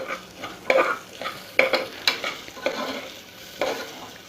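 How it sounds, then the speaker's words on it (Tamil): A spoon turns broken basmati rice in hot ghee, giving steady scraping strokes about once a second over a gentle frying hiss. The sound is close and clear, with no voices. "எல்லா அரிசியும் சேர்த்ததுக்கப்புறம் ஜஸ்ட் நெய்யில் வதக்கிக்கோங்க."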